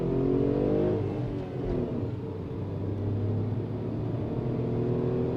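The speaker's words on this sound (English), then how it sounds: "You can hear that engine whining sound on the inside." A Tata Punch manual's engine whines and rumbles from inside the cabin while accelerating in city mode, a steady droning tone that rises with revs and dips as they drop.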